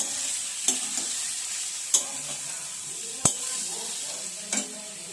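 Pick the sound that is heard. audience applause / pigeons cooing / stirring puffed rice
stirring puffed rice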